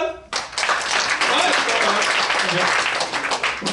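An audience at a comedy show in Lausanne bursts into loud, sustained applause after a brief voice, the dense clapping filling the hall for several seconds.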